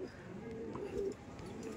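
A pigeon coos softly and low in a backyard loft, a muffled rolling call that is quiet and mixed with faint handling noise and background voices.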